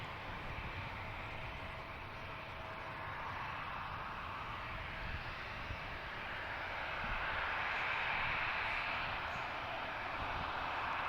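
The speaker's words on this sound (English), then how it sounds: "Next arrival is Delta Connection from LaGuardia." A Delta Connection jet arriving from LaGuardia at DCA airport rumbles steadily at a distance, its broad engine roar slowly swelling louder toward the end.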